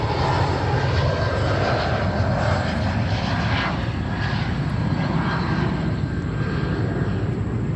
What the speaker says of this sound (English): next departure we have American 777-200, service to Tokyo Haneda